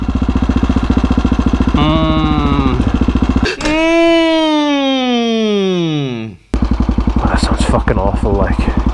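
Husqvarna 701 supermoto single-cylinder engine idling with a steady rapid clatter close by, interrupted midway by a rising-then-falling revving tone before the lumpy idle returns.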